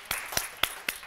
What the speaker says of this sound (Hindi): तालियां बजनी चाहिए भाई